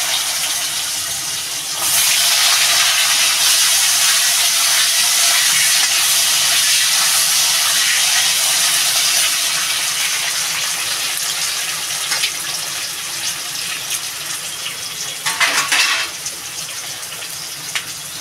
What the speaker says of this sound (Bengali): আলুটা একটু ভেজে নেবো ভালো করে।